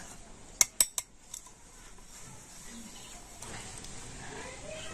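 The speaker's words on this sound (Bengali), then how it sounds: "এবার আমি সমস্ত উপকরণ খুব ভালোভাবে মিশিয়ে নেবা" Semolina batter ingredients and sour yogurt being mixed in a bowl, three sharp spoon clinks on the rim near the start followed by soft quiet scraping and stirring.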